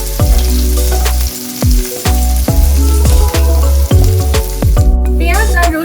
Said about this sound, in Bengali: পেঁয়াজ পুরো লাল লাল করে ভেজে নেব।